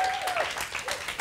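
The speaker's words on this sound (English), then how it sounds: "If you're going to clap, man, you got to clap, right?" A church congregation claps for a pastor in a brief, dense burst of many hands, fairly close and lively, with voices mixed in.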